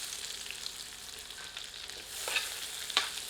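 Onions frying in rendered mutton fat over medium heat make a soft, steady sizzle with a couple of brief stirring scrapes near the end, close but fairly quiet.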